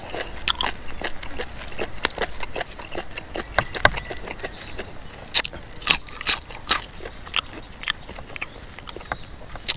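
Someone eating blanched pork intestine whole without cutting it, with repeated crisp bites and crunchy chewing close to the microphone in an irregular rhythm, nearly alone.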